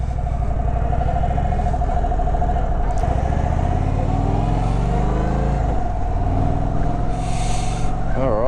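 A 2024 Indian Springfield Dark Horse on its stock exhaust, heard while riding: a steady, loud low engine drone mixed with wind, the pitch shifting briefly near the end.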